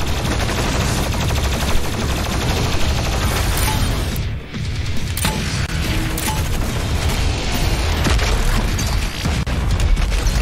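Doom Eternal combat with constant loud rapid gunfire, booming blasts and mechanical clatter, an unbroken wall of weapon noise with only a brief dip midway.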